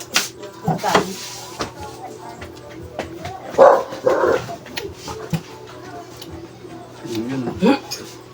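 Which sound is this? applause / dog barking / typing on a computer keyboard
dog barking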